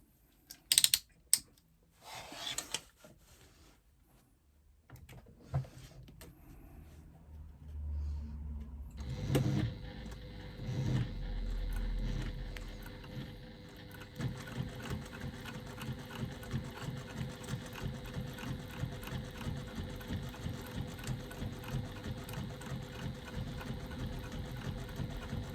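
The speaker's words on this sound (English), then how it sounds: "you're going to top stitch again from this point on the zipper tab to the same point on the other side" Sewing machine top stitching a zipper tab on a fabric wristlet, starting with a few clicks and bursts, then settling into a long run of rapid, even needle strokes.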